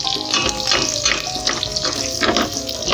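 Garlic sizzles in a hot pan while cooking pork caldereta, a steady crackling hiss with fluctuating bursts of spattering oil, close and continuous with no talking.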